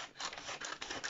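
Scissors snip through fabric while a skirt pattern is cut, giving a few soft, close, scratchy cuts in quick irregular succession with no talking.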